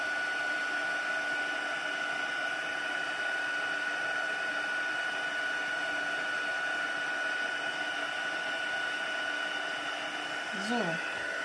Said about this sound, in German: jetzt seht ihr, ne, das Pulver schmilzt unter dem Föhn